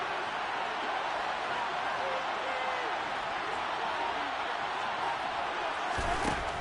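A stadium crowd in the Madden American football video game makes a steady, broad roar of noise that builds before a big third down and keeps going without a break.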